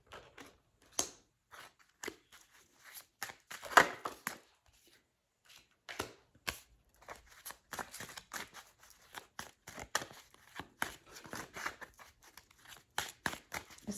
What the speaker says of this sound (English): Let me get the shuffling out of the way and get all of the clarifiers.